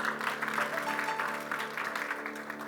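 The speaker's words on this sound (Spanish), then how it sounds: "Denle ese aplauso fuerte a Cristo." A church congregation claps together in a strong, sustained round of applause, with a faint musical tone sounding beneath the clapping.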